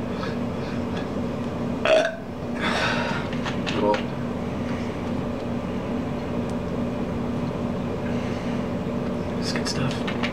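A man burps in an indoor room over a steady background hum, with one loud belch early on, a rougher one soon after, and smaller gulping burps later.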